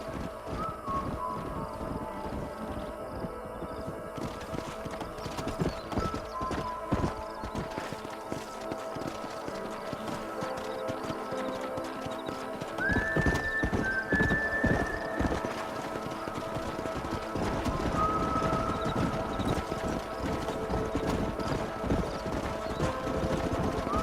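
Horses in the Red Dead Redemption video game clip-clop steadily at a trot with a clear whinny partway through, set against a busy ambient game soundscape.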